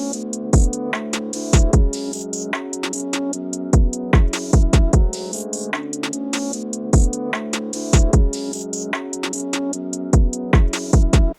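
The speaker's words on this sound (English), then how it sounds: "when you hear everything played together, the beat should sound like this." A full UK drill beat plays throughout, with hard sliding 808 bass hits, crisp rapid hi-hats and snares over sustained melodic layers, loud and steady with no voices.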